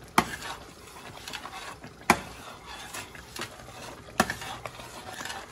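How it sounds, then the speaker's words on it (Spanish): Beans with cheese stirred in a pan for frijoles puercos, a spoon scraping and clacking in a few sharp strokes over a soft background sizzle, close and moderately loud, no talking. "Lo voy a revolver, pero ya le apago para que no se desbaraten tanto."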